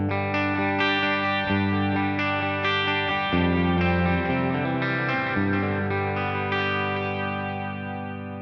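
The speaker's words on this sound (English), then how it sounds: "And now we're going to have a tape echo." Electric guitar run through a Boss Katana 100 MKII amp head with a tape echo effect, sustained chords and notes trailing into repeating echoes, loud and steady with no talking.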